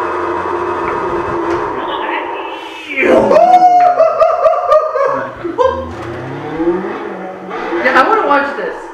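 A race car engine in an iRacing driving simulator revs and drops with rising and falling tones in short bursts, loud and close, while people talk over it.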